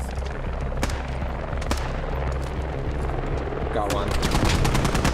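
Machine gun fire from a remote weapon station in a military shooter video game: loud, repeated sharp bursts over steady engine-like rumble, turning into a rapid chattering string near the end, with a voice speaking briefly.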